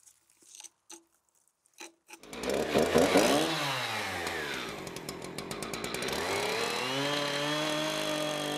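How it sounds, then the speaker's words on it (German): Chainsaw cutting the top end of a wooden post at an angle while a wooden well is built, a few knocks first, then a loud close engine snarl that revs and bogs into the cut, steady to the end. "sägt das obere Ende noch schräg ab"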